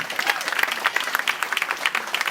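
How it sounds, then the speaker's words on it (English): A comedy-club audience claps in a dense, steady burst of applause, close and lively from start to finish, with no voice on top. "give yourselves a round of applause"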